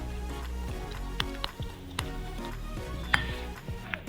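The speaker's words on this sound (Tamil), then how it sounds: "நல்லா மிக்ஸ் பண்ணி விட்டுருங்க." A utensil stirs a whole-egg batter in a bowl for crispy fish fingers, giving soft, steady swishing broken by irregular clinks and taps against the bowl. No one speaks.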